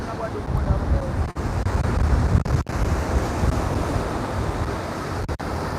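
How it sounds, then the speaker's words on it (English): Wind buffets the microphone on the Can Pastilla coast of Mallorca, a loud continuous rumbling roar with brief dropouts, surf washing faintly beneath it. "Now the wind seems to be blowing."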